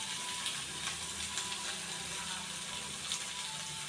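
Pure mustard oil is poured into a pan on the stove and starts to sizzle, a steady hiss and faint crackle with soft clicks, heard close and continuous.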